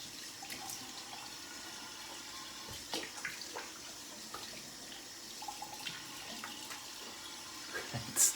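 A faucet runs with a steady, soft hiss of tap water while shaving soap is rinsed off at a sink, with faint splashes and small clinks throughout.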